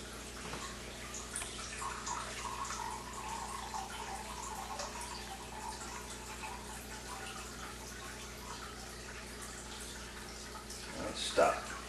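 Water pouring from an Enagic Leveluk SD 501 water ionizer into a container for a timed flow-rate test, a steady soft trickling stream running throughout, with faint voices in the background and a brief knock at the end.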